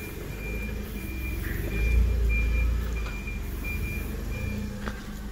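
Evenly spaced forklift reversing beeps repeat over a rumbling engine that swells briefly, with a faint hiss of air brakes near the end.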